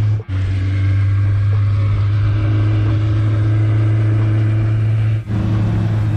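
A stunt motorbike engine holds a loud, steady drone close by on a UK street ride, with two short dips as the revs drop away.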